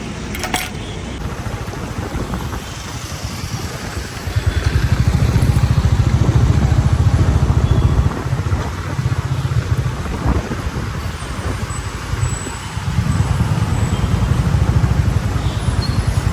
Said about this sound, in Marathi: बऱ्याच अशा गाड्या आता गावी जायला निघालेल्या आहेत फॅमिली कार किंवा बस